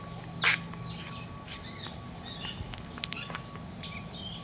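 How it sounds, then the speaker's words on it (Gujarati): Sparrows chirp outdoors in a rural farmyard setting, with several short, thin tweets scattered irregularly across the moment, one sharper call standing out early, all fairly faint against a steady low background hum. "ચકલા બોલે ટી ટી ટી વાદળમાં"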